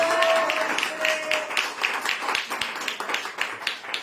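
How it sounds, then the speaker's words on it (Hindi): Congregation at a church service clapping in praise, a loose, uneven patter of many hands with a faint tone underneath, fairly close and steady throughout. "प्रभु हालेलुया तालियों के साथ परमेश्वर को धन्यवाद देना"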